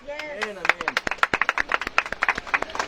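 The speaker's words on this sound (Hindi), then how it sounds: "एक बार प्रभु के लिए जोरदार ताली बजाएं।" Congregation at a Hindi-language Christian worship service clapping loudly in praise, a quick irregular run of sharp claps from many hands, near and energetic, with a voice calling out at the start.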